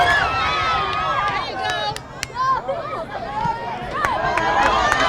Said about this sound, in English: The crowd is super happy.